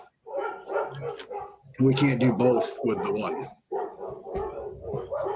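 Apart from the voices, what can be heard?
dogs barking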